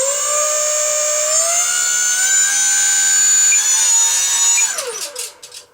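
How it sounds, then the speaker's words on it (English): The small electric motor of an E-flite UMX F4F Wildcat RC plane whines loudly and close, its pitch sliding upward and holding before spinning down and cutting off near the end. "now we are going to listen to that motor do its thing"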